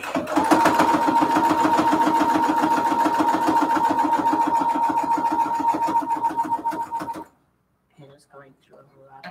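A sewing machine backstitches through quilt pillowcase fabric, running fast with a steady mechanical whir and rapid needle clatter for about seven seconds, then stopping abruptly before a few short stitching bursts, with a person talking over it.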